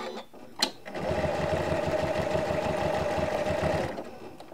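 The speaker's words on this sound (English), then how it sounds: "I'm going to be stitching that decorative stitch on again" A sewing machine runs steadily for about three seconds, stitching a decorative stitch along a quilt strip on a vintage linen wall hanging, with a fast even whir and needle chatter, close and alone.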